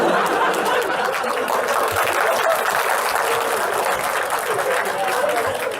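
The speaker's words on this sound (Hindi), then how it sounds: "do not start clapping" An audience in a university lecture hall claps at length, loud and dense throughout, with crowd chatter and a few chuckles mixed in.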